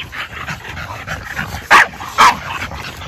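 A pit bull barks twice, two sharp, loud barks about half a second apart, over faint background noise.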